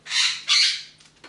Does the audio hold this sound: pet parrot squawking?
yes